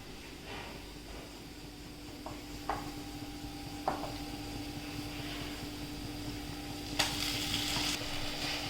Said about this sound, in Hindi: अब हम डालेंगे मैरिनेटेड चिकन।